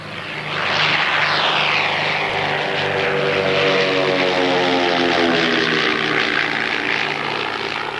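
A propeller airplane drones steadily overhead, its pitch sliding downward as it passes, loud and continuous throughout with no voices.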